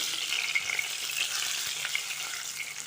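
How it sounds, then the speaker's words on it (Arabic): Chopped onions sizzle steadily in hot oil in a pan as the base for a turnip soup, a close, even hiss with faint crackles throughout and no speech. "راني نخلي البصل يتقلى"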